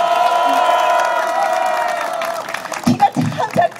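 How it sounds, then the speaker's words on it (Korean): Rally crowd applauding and cheering for a candidate, with tonal sustained voices and broadband clapping fading down over the first seconds, then a few short loud bursts near the end; speech-like voices mixed in. "여러분 박수 한번 주시길 바랍니다."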